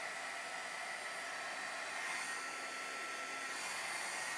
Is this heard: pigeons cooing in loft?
no